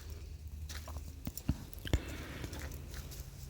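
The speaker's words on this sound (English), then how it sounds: "You'll hear the crunching of the sticks and pine needles underneath my feet." Footsteps crunch sticks and pine needles on a forest path, a series of close, quiet, irregular snaps and crackles, some sharper than others, with soft rustling between them.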